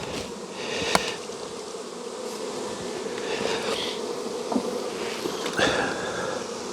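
Honey bees in an observation hive give off a steady close buzzing hum that holds for the whole stretch, with a few brief sharper clicks and handling knocks over it.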